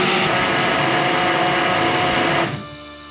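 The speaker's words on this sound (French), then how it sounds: "on va leur mixer une dernière fois" Blender whirring loudly while mixing a Levlup swimming pool smoothie, a steady high buzzing whir that stops abruptly near the end and leaves a fading hum.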